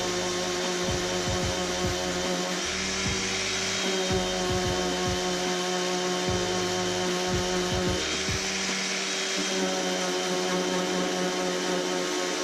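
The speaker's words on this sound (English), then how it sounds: "I'll take my sander, got 120 grit on there. I will just nick those edges off." Power sander fitted with 120 grit working the edges of oak on a boat restoration, a steady close whine with rough, intermittent scratching and knocking as the pad moves over the wood.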